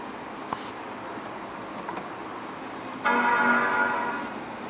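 A Power Macintosh 4400 computer sounds its short startup chime over a steady fan hum, a single clear tone that rings and slowly fades.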